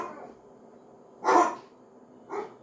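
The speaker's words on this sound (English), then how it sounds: "sorry about the dogs." Dogs bark indoors, with two sharp barks about a second apart over quiet room noise.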